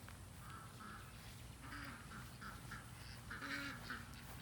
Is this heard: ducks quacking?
yes